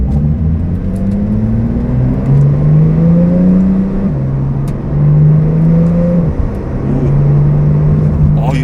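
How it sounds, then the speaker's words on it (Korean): A Porsche 911 Turbo S Cabriolet 992 with its sport exhaust on rumbles loud and close in sport mode, its deep low drone rising in pitch through steady acceleration with brief dips at gear changes. "배기 시스템이 딱 켜진 상태에서 들어보면 굉장히 저음이 묵직하게 들려요"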